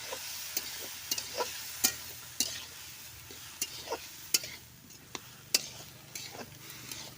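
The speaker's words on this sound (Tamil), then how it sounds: "கத்திரிக்காவில் எல்லா காய்கறியுமே சேர்த்துட்டு நல்லா கிளறி விட்டுடலாம்." Brinjal and mixed vegetables sizzle in a pan while a utensil stirs them, giving sharp irregular scraping clicks over a soft steady frying hiss, close and fairly quiet.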